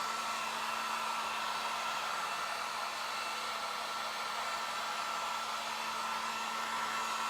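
A hair dryer blows steadily up close, drying freshly applied chalk paint on furniture, an unbroken loud whooshing hum with no pauses.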